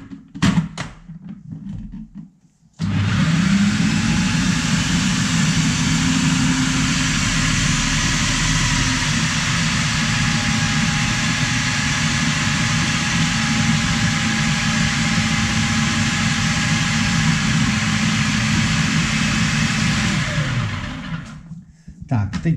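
A kitchen mixer grinds meat for homemade Spiš sausages, switching on abruptly after a quiet start, then running loud and steady for almost twenty seconds before winding down, with talk faint beneath it.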